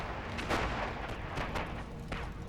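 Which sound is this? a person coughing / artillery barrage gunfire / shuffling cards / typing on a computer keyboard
artillery barrage gunfire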